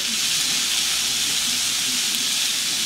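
Homemade hamburger patties sizzle on a hot grill, a loud, continuous broadband hiss and crackle that stays level throughout, with no talking.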